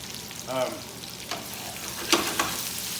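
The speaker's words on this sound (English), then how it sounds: "this is a classic saute pan. So I'm getting about a medium-high heat on this." Food sautéing in a curved-edged sauté pan over medium-high heat, with a brief stirring sizzle and scattered light clatter of utensils against the pan, heard fairly close and fairly quiet, with no talking.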